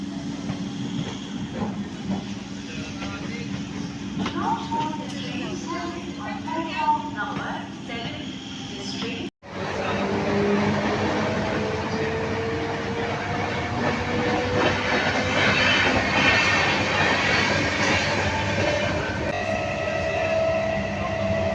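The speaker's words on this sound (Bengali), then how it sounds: "তো বন্ধুরা ঢুকছে এখন হাওড়া বর্ধমান লোকাল।" A Howrah–Bardhaman local train pulls into a station platform with a loud, continuous rumble and hiss of wheels and carriages that builds as it rolls past, while a voice talks over it.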